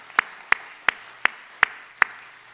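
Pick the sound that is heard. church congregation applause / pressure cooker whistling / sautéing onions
church congregation applause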